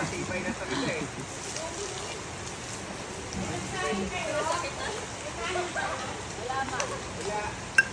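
Steady rain patters on a surface in a continuous hiss, with people talking over it.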